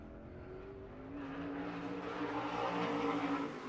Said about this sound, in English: warm-up laps to shake down that car prior to qualifying.